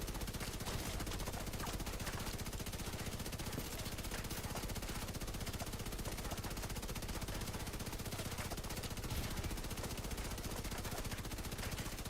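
Enemy gunfire in The Division 2, rapid automatic shooting crackling continuously under a dense, noisy game soundscape, fairly quiet overall and steady for the whole stretch.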